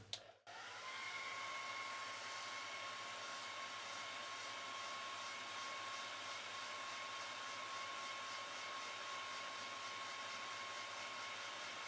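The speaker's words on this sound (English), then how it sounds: "Put a hairdryer on it on low." Hair dryer on its low setting blowing onto a small homemade wind turbine, clicking on and then running as a continuous steady whine with an even airy rush, close and constant.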